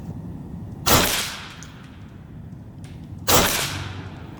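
A Macavity Arms MA3 PCP air rifle fires FX pellets in two sharp, loud cracks about two and a half seconds apart. Each crack is followed by a short decaying tail, and the quiet outdoor background has no talking.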